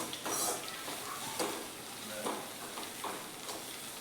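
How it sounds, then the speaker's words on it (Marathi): Curry leaves and ground masala paste being stirred in a pan for sprouted moong curry, with a soft sizzle and faint scraping strokes recurring through a short stretch with no talking. "आता याच्यामध्ये आपण कढीपत्ता घालून घेऊया आणि आपण वाटून घेतलेलं वाटण हे चांगलं मिक्स करून घेऊया"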